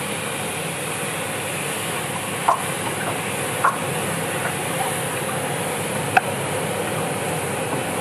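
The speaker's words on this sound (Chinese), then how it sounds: "番茄下锅， 听声音" Tomatoes hitting a hot wok, a loud, steady broadband hiss of sizzling with a few sharp ticks and clinks from the pan.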